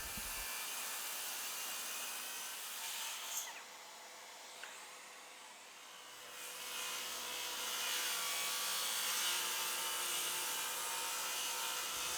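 A saw trimming the dried wooden top of a hybrid workbench to square it up makes a continuous, faint, hissing rasp that runs with few breaks, then grows slightly louder toward the end.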